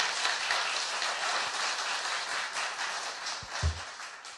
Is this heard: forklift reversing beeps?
no